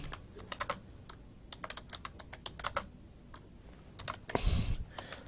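Typing on a computer keyboard, with irregular bursts of close, crisp key clicks and a brief louder clatter near the end, with no voice.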